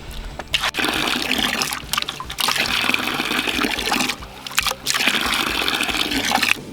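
Muddy water gushes and splashes steadily from a hand pump on a hand-drilled backyard well, loud and close, with a few brief pauses between strokes.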